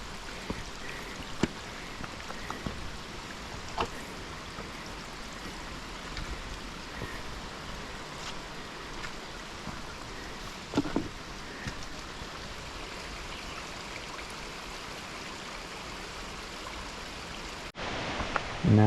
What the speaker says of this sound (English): A little bit of a trail turns into the stream, but we're used to that up here.